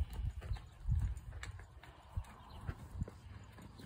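Hoofbeats of a horse trotted out during two-rein training, rhythmic thuds at close range over a quiet background, with no talking.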